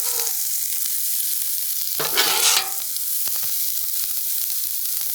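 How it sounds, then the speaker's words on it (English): Rice fries in oil on a hot Blackstone griddle, a loud, continuous sizzling hiss with a short burst of scraping or stirring in the middle, no voices. "So goal here is just to heat up the rice, right? Get it fried"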